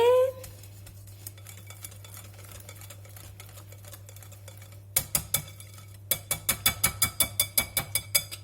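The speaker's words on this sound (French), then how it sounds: "Je vais venir touiller." A whisk stirs savory cake batter made with oil in a bowl: quiet, scattered taps at first, then a run of brisk, rhythmic clinks against the bowl over a steady low hum.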